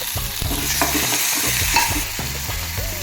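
Chopped tomato drops into a hot frying pan for a green gram and dill palya and is stirred, giving close, steady sizzling with repeated scraping and clattering strokes of the spoon against the pan, and no voices.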